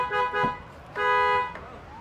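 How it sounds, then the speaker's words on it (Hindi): A Tata Safari facelift's horn gives two short beeps on remote unlock, each a bright tonal chirp separated by a brief gap, close and clear with no talk over them. "अनलॉक पे आपका हॉर्न के साथ बीप रहेगा।"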